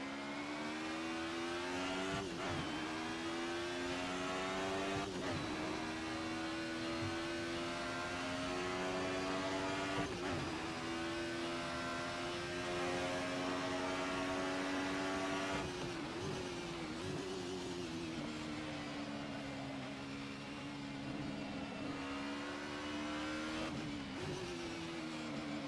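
A 1990s DTM touring race car at Silverstone in a sim racing game, its engine droning loud and steady at high revs, pitch dipping sharply at each brief shift or braking point and then climbing again.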